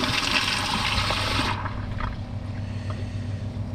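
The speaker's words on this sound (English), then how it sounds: "I'm gonna give it a second flush after the tank is full, or maybe I can give it a second flush while it's filling." A Kohler Pressure Lite pressure-assisted toilet flushes with a loud, forceful rush of water for about a second and a half, then drops to a softer hiss and gurgle as the tank refills.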